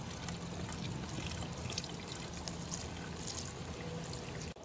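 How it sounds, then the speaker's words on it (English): Homemade windshield washer fluid pours into a car's washer reservoir as a steady, faint liquid stream that runs unbroken for several seconds, close by and with no talk. "let's go ahead and pour this in my car."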